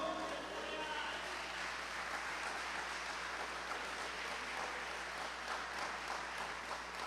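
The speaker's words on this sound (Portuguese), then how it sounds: "Você pode dar um aplauso ao Senhor?" A church congregation applauding during a sermon, a faint, distant wash of clapping spread evenly through the room and continuing without breaks.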